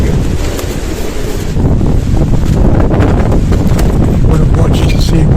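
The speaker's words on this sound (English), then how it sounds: "It's just blowing the trees all over the place." Strong gusty wind roaring steadily and loudly, buffeting the microphone as it blows through trees on a very windy day outdoors, with no talk over it.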